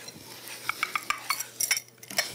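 Rum-marinated banana pieces being mixed into a little flour in a bowl: quick, irregular scraping and light clinking of a utensil against the dish, close and steady, with no talk.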